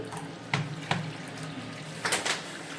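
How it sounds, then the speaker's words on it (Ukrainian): Water runs steadily into a wall-hung toilet's cistern with a soft trickling hiss, broken by a few brief splashy bursts, close by and with no talking. "бачите, вода самотеком тече"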